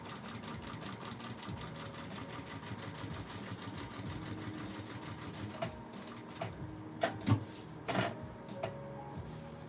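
Hand-cranked sewing machine stitching a tote bag, a steady rapid clatter of needle strokes that slows and breaks into a few louder separate thumps near the end as it rounds a curve.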